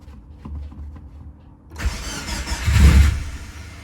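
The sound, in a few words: Subaru Forester STI engine cranking and starting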